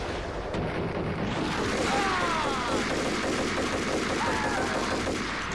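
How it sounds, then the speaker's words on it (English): Shotgun blasts in the game Max Payne, a dense, loud continuous barrage of booming gunfire with overlapping reports and rumble filling the whole span. "Fucking shotgun, guys! I'm shooting this guy!"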